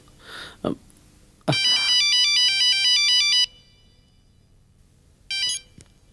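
Mobile phone ringtone for an incoming call, a loud electronic melody of repeating tones that plays for about two seconds, breaks off, then sounds again briefly, with a short voice before it.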